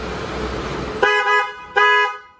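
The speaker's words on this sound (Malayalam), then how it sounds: "ആ ഒരു ബെൻസ് ടൈപ്പ് ഹോണാണ് ചെയ്തിട്ടുള്ളത്" A Hella Midnight Black Benz-type horn fitted to a Baleno car honks twice, the first blast short and the second longer and steady, loud and close with no talk.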